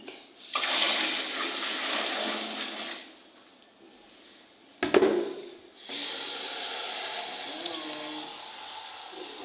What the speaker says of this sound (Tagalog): Dagdagan ko po siya ng tubig.